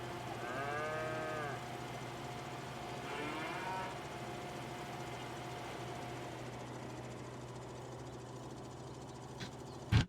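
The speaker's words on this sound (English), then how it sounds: "let's have a look at our milk cows." Cattle on a farm lowing in two drawn-out moos near the start, over a steady low machine hum, with a sharp knock near the end.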